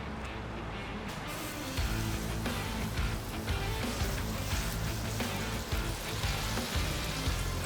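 Tomatoes sizzle on a non-stick griddle, a steady dense crackle that swells louder after the first two seconds and holds close and continuous throughout.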